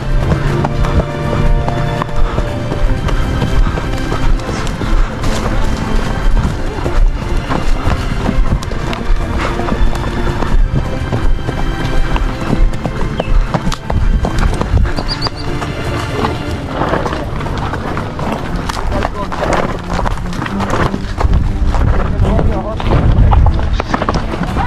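Hooves pound in a fast gallop on a South African riding safari, several horses running together chasing an antelope beneath a loud, dense wash of sound that never lets up.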